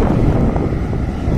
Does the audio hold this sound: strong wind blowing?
yes